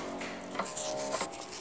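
Pen or marker rubbing and scratching across paper while drawing sand, a soft continuous scraping with a few sharper strokes, close and alone.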